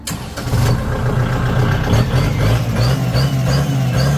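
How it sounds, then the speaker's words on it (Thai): A Kubota L4708SP diesel tractor engine cranks and catches, then settles into a steady, loud, low rumbling run close by. "สตาร์ทฟังเสียงเครื่องยนต์ครับผม"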